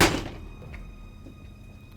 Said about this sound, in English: the figure pulled out this mallet and slammed it into the table